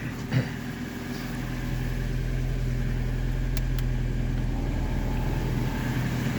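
A car engine idles while warming up, a steady low rumbling hum that holds constant and fairly loud throughout, with a faint click near the start.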